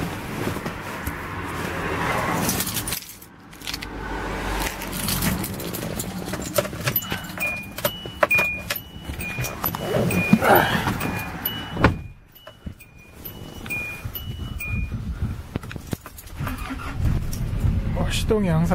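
A 2001 Hyundai Starex van being started after sitting ten days, with keys jangling, door and cabin clatter, and the engine cranking and catching, under someone talking nearby.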